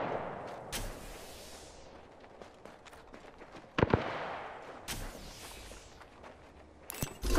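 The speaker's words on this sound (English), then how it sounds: "I am taking fire, friends." Sharp gunshot cracks from Apex Legends combat ring out in scattered bursts, a few loud reports standing out among quieter distant pops and mechanical clicks.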